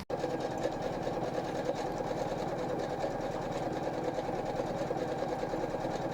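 An embroidery machine stitching numbers, a fast, steady mechanical whir with rapid rhythmic needle clatter, continuous and close, with no talk over it.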